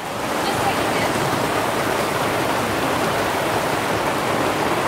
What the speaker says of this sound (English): How awesome is this rain?